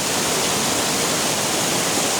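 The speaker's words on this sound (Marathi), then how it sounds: "तुम्ही बघा माझ्या पाठीमागे हे पाणी किती जोरदार वाहत आहे" Fast-flowing forest stream in the Konkan region rushing beside a hillside fort, a loud, steady broadband roar of water filling the whole span, close and continuous with no voices.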